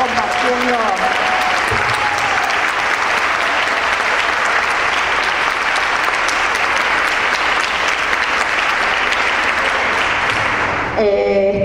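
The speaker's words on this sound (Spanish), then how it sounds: "quisiera pedir un aplauso a las compañeras más jóvenes que se están asomando" Sustained audience applause at a women's gathering, loud and dense, filling the room for about eleven seconds before tapering off at the end, with a few voices mixed in.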